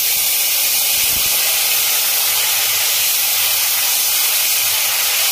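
Onion paste hits hot oil already seasoned with whole cumin, cloves and turmeric, giving a loud, continuous, close-up hiss of sizzling that holds steady throughout.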